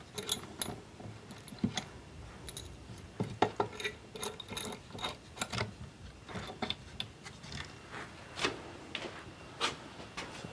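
Metal clamps being ratcheted and hung on a workshop rack, a quiet scatter of ratcheting clicks, ticks and light metallic clatter coming in irregular bursts, with no one speaking.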